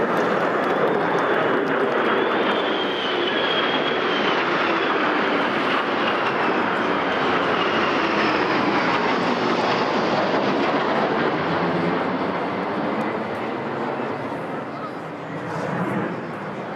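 An RAF Rivet Joint escorted by two Lightning jets flies past over Buckingham Palace, producing a continuous, broad jet roar that holds steady for several seconds and then gradually eases.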